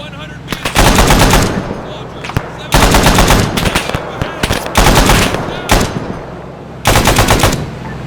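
A 12.7 mm automatic machine gun fires in the video game ARMA 3, giving loud, rapid bursts of about a second each with short gaps and a few single shots between them.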